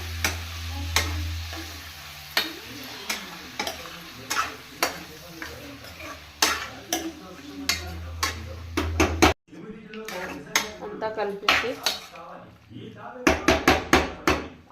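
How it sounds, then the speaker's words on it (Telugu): Chicken livers added to a frying pan and mixed, with repeated loud clanks and scrapes of a spoon against the pan over a sizzle, the clattering speeding up toward the end. "బ్రష్ చేసి పెట్టుకున్న లివర్ వేద్దాం అంతా కలిపేసుకొని"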